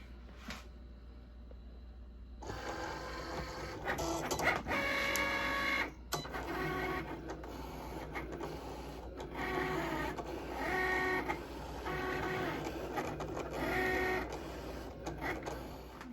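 A Cricut cutting machine cuts an infusible ink transfer sheet, its carriage whirring and buzzing in repeated mechanical passes with short pauses, close and steady throughout with no talk.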